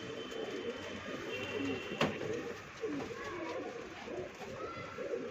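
Low, rolling pigeon coos repeat softly against a steady background hum, with a sharp click partway through.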